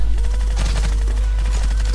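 Gunfire in the PUBG Mobile video game, a loud, fast run of rapid shots over a heavy low rumble, dense and continuous for two seconds.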